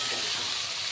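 Onion and tomato hitting mutton frying in a pan, giving a loud, steady, close-up sizzle with no voices.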